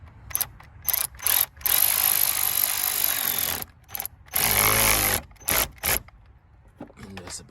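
HART 20-volt 3/8 inch cordless ratchet tightening, loud whirring bursts of the motor starting and stopping several times in short and longer runs, up close, with a person talking between bursts.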